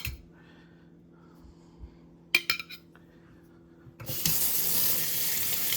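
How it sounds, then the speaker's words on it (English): A glass tumbler with a handle clinks briefly, then tap water gushes loudly into and over it in a steady hiss for the last couple of seconds of a quiet kitchen scene. "Quick rinsing."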